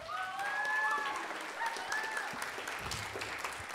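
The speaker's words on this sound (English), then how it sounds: "Would you give him a round of applause?" Audience applause at a spring high school band concert for the string bass player, a steady wash of clapping with a faint crowd murmur and a few tonal ringing notes over it.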